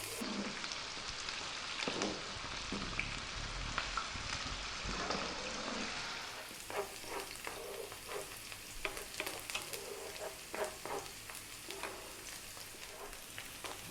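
Chopped onion fries in a pan over high heat, a dense continuous sizzle that swells after a few seconds and crackles steadily, with occasional stirring scrapes and no talk.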